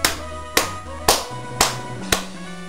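Five sharp, evenly spaced claps ring out in a slow, deliberate rhythm, each crisp and close, with a faint tonal backdrop between them, in the video game Pokémon Emerald.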